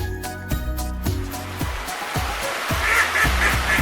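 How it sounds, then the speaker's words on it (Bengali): A duck quacks in a quick series of loud, nasal calls at close range, followed by softer, more distant honking and a steady windy hiss underneath. "হাঁসকে ইংরেজিতে বলে ডাক।"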